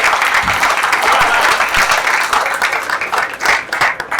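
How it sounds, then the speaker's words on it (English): Audience at an outdoor light rail groundbreaking celebration gives loud, steady applause, dense clapping that continues throughout with slight swells. "Let's give a big round of applause."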